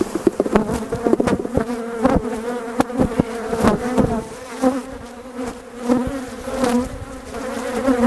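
Honeybees swarm around an opened beehive during an inspection, a close, continuous buzzing hum with the pitch wavering as individual bees pass near, plus occasional knocks and taps.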